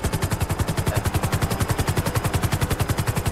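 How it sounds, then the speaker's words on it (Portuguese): Rapid automatic gunfire fills a GTA 5 shootout in a favela, a loud, relentless stream of evenly spaced shots that continues without pause. "Estão atirando. Disparo, disparo."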